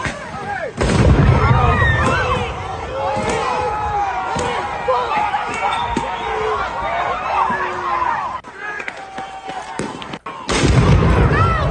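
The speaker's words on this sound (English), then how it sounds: "we just had an explosion here" An explosion bursts loud and close during a street protest where pepper bombs are in use, with sharp booms at the start and end over dense crowd shouting and chaotic noise.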